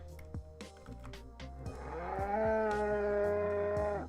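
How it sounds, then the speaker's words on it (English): A cow moos loudly in one long, drawn-out, harmonic-rich call with no talking, over a low rumble and a few thumps. "That's just a cow."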